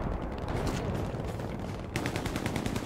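Rapid automatic gunfire rattles in the video game Hell Let Loose, a dense, loud burst of overlapping shots that continues without pause across the clip.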